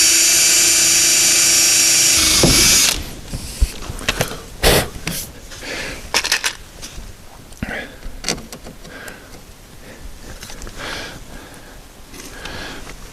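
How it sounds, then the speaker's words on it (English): A power drill whines loudly in a brief high-pitched burst while boring a hole for a car door sill trim, then stops; short handling clunks, taps and breaths follow nearby. "I'm going to drill and secure this mid hole first."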